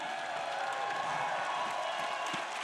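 Audience applause at a Star Wars Celebration panel, a dense, steady wash of clapping and crowd noise that holds at an even level throughout.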